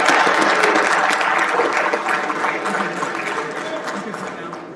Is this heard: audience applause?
yes